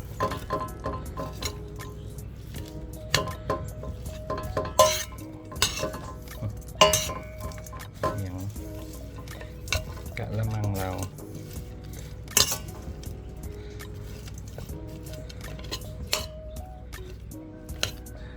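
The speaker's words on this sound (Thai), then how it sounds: "ขั้นตอนต่อไปก็จะมาคนส่วนผสมนะครับ ให้เข้ากัน" Ingredients of a Thai mackerel salad with fresh lime juice being stirred together in a bowl, giving scattered clinks of a spoon against the dish and soft wet stirring, moderately close, with no talk.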